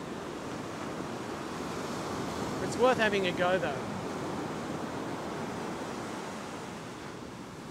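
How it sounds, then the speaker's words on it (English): Ocean waves breaking on a fishing beach, a steady loud wash of surf and wind noise throughout, with someone speaking briefly over it. "But the waves are bigger here and there's a lot more water movement."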